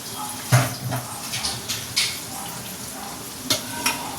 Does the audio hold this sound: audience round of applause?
no